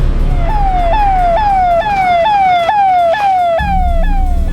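Ambulance siren on an emergency vehicle at a crime scene, wailing loudly in a steady rising-and-falling cycle that repeats about every half second, close and continuous, with road rumble underneath and no talk.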